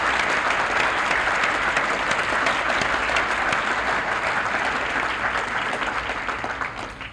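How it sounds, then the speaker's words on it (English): Loud, dense applause from a council audience for Dr. Frank Byrd, a sustained wash of many hands clapping that stays strong and tapers near the end. "give a loud round of applause to Dr. Frank Byrd"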